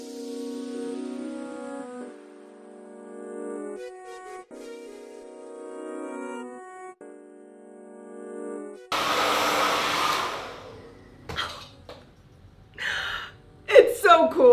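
Hair dryer fitted with a diffuser roars on steadily for curly hair, cutting in after a stretch of music and continuing with small breaks as a person makes breathy sounds over it.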